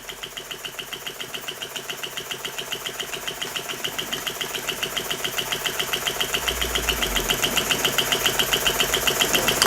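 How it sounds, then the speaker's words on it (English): A fully restored 1920s Elektro model steam engine runs smoothly with a fast, regular chuffing beat that gradually picks up speed and loudness over several seconds, alone with no talk. "a fully restored 1920s Elektro model steam engine"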